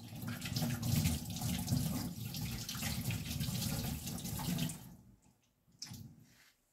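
A kitchen tap runs steadily over lamb intestines being washed for kokoretsi, a close splashing gush that stops after about five seconds, followed by a few faint drips and handling sounds.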